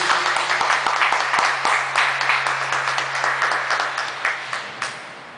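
A crowd at a church prayer group meeting applauds steadily, with some sharp individual claps standing out, then the clapping thins and fades toward the end.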